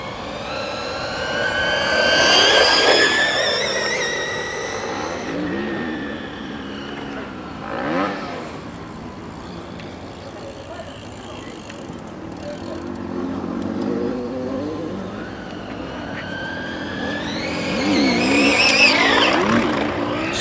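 Fast RC car being driven and accelerating, its high electric whine rising and falling in sweeping bursts, loud near the start and end and fainter in the middle, with light tire noise and a voice at times.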